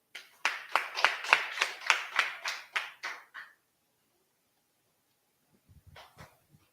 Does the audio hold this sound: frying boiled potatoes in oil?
no